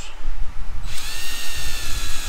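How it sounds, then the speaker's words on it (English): A power drill bores larger holes through a welder plate, a loud grinding whir that rises in pitch partway through as the bit cuts, with no voices. "While we're drilling the larger holes."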